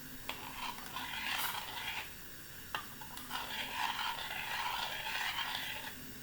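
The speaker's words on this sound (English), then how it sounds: "So I'm just going to stir it again." A spoon stirs thick porridge in a cooking pot, making soft, repeated scraping and sticky squelching strokes close by, with short pauses between passes.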